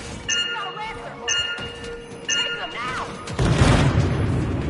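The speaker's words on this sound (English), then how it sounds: "I think the explosion destabilized the foundry" Explosives detonating in the video game Anthem: a loud rumbling blast rises near the end and sustains. Before it come three repeating tonal electronic chimes, as if from a countdown or charge sequence.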